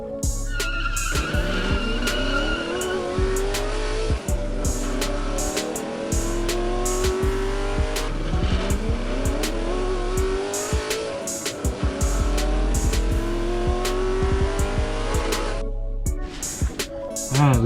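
Hot Wheels toy cars race down a mile-long drag track, giving a steady whirring roll with rising and falling pitch sweeps and many sharp clicks at track joints, continuous and fairly loud throughout.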